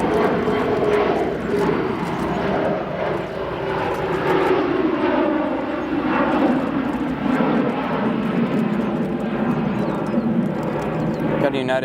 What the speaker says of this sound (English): CRJ 700 departing now